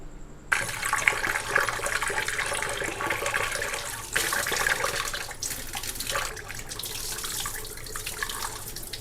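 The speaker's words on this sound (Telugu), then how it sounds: "బియ్యాన్ని పెసరపప్పును అయితే నీట్గా ఒకటికి రెండు సార్లు నీట్గా వాష్ చేసుకుంటాను" Rice and moong dal are washed in water, a steady close splashing and running-water rush that continues throughout with brief swells, with no voices.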